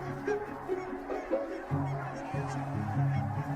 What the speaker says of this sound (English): I like the geese, I love to hear them